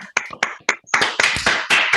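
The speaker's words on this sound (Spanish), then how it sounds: "regalarle un aplauso a la doctora" Scattered claps at the close of an online training session with a doctor, sparse and sharp at first, then thickening into quicker clapping, close and dry.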